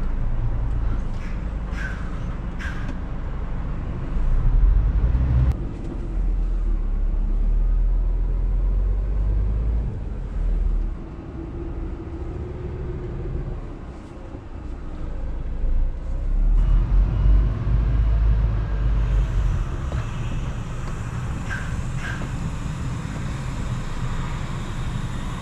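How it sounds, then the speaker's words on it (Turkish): A Scania truck stuck in snow spins its wheels, giving a loud continuous engine rumble and whining drone for about half a minute with small surges and no talk. "Patinaja düşüyor"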